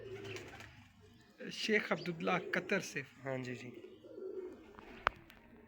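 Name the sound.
pigeons cooing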